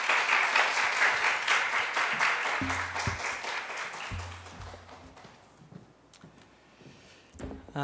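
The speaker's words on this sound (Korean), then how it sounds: "우리 큰 박수로 우리 목사님 모시도록 하겠습니다." A church congregation at a Sunday service claps loudly at first, with the applause gradually thinning out and fading, leaving scattered sounds before a voice begins.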